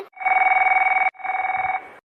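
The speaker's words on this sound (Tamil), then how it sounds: "நந்தினி ஃபோன் பண்ணுறாளே" A phone rings in a Tamil cartoon, two loud, steady trilling rings that each last about a second, with a brief gap between them and no talking.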